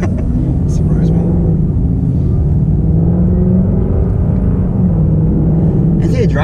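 Supercharged Ford Mustang GT/CS engine heard from inside the car, a loud steady low rumble with strong throttle, continuous throughout with talk over it.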